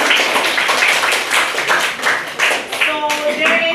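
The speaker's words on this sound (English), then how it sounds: "A big round of applause." An audience applauds a group at a facilitation session, a loud, dense burst of clapping that runs throughout, with a voice speaking over the tail end.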